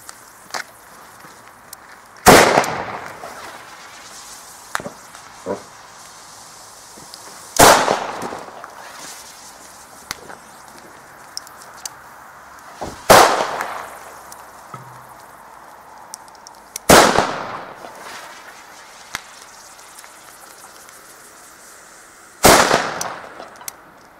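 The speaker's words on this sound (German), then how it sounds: "Kubische Kanonenschläge von Komet." Comet cubic firecrackers (Kubische Kanonenschläge) go off one after another, five sharp loud bangs spaced several seconds apart, each with a short ringing tail, outdoors with quiet gaps between.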